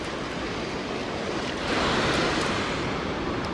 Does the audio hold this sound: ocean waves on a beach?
yes